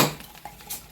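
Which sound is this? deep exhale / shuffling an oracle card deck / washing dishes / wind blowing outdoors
washing dishes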